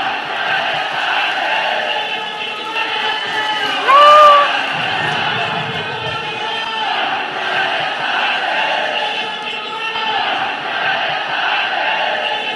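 A large crowd at a Maratha reservation victory gathering roars and cheers without letup, a dense wash of voices and shouts that holds steady throughout, with one louder whoop partway through.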